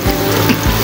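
Onion dropped into hot oil in a pan sizzles steadily for tilapia in coconut milk cooked at home, a short dense frying hiss with a couple of clinks from the pan.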